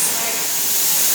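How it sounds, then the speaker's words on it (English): A steam canner pot venting steam while preserving tomatoes, giving a loud, continuous close-up hiss that stays steady and broadband throughout. "So now we're venting our pot for 10 minutes."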